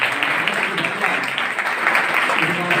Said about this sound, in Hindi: जोरदार तालियों के साथ बुलाना